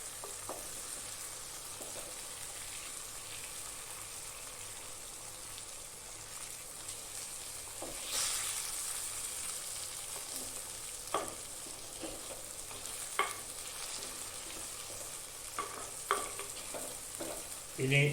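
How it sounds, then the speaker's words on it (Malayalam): Fish head and tail pieces coated in thick masala, with no water added, sizzle softly in a pan while a spoon stirs them, making scattered scrapes and clicks over a low, steady frying hiss. "നന്നായിട്ടൊന്ന് ഇളക്കുക."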